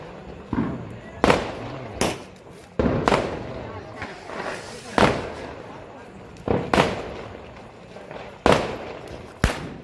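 Diwali firecrackers bursting outdoors, including small bombs set off by a family: a series of sharp, loud bangs spaced a second or two apart, each fading with a short echo.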